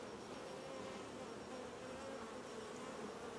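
Honey bees hum at a backyard hive, a faint, steady, continuous buzz of many insects with no speech over it.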